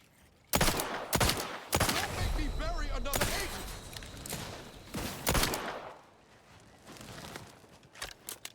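Revolver gunshots in The Outer Worlds 2 ring out as a handful of sharp, loud reports spaced irregularly over several seconds, with rattling mechanical handling noises in between and a quieter stretch at the end.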